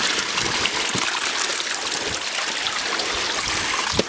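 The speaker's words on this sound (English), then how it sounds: "when there's a lot of water coming down here" Water rushes steadily down a rocky stream at Crowden Clough on Kinder Scout in the Peak District, a broad close hiss of flow with small splashes throughout, loud and continuous without speech.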